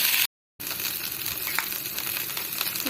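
Okra sizzling and frying in a pan while it is stirred, a steady loud crackling hiss close up with a few scraping accents, briefly cut to silence near the start, no voices.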